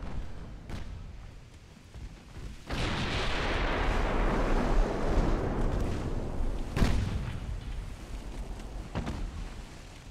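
Warship main guns firing in the naval battle game Ultimate Admiral Dreadnoughts, a sudden heavy boom followed by a long rumbling roar, with sharper separate shots before and after.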